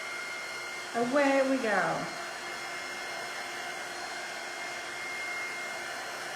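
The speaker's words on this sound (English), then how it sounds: "Let me blow dry this." A hair dryer blows steadily on a freshly painted DIY craft piece, a faint continuous whoosh running throughout, with a person briefly speaking over it near the start.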